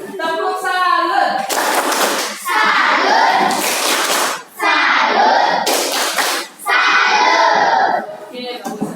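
Schoolchildren in a classroom perform a rhythmic group clap in loud, close bursts separated by short pauses, with children's voices chanting along between the claps.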